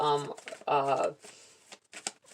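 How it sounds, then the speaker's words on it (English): A deck of tarot cards is shuffled by hand in quick crisp riffles and rustles, following a spell of a person talking close by. "I'm going to shuffle up"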